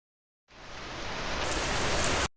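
A heavy rain shower comes in abruptly as a loud, dense hiss that swells slightly and then cuts off sharply after about two seconds.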